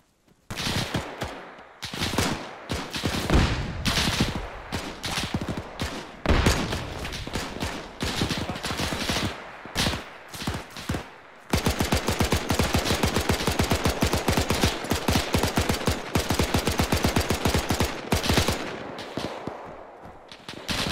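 Heavy machine gun fire in the video game Arma 3 booms in loud, uneven bursts at first, then settles into a long, dense stretch of rapid sustained shooting, close and relentless.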